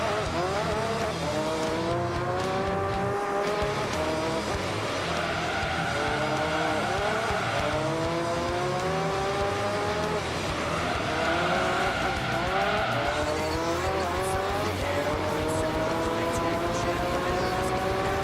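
Formula One race car engine in Gran Turismo 3, a high sustained whine that climbs through repeated upshifts, with steady screaming pitch sweeps running throughout alongside a voice talking over it.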